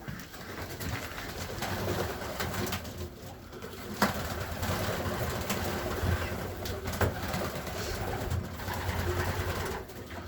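Carrier pigeons coo softly amid a busy rustle and flutter of birds feeding nearby, with some background noise.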